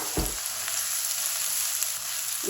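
Onions, curry leaves, cloves and cardamom frying in hot oil, a loud steady sizzle that fills the whole stretch, with one brief knock near the start and no speech.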